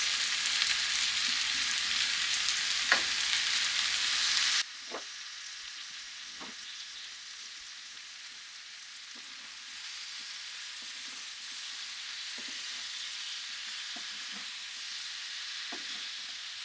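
Potatoes fry in bacon grease in a pan for a breakfast burrito. A loud hiss at the start eases to a quieter, steady sizzle broken by occasional light clicks and scrapes.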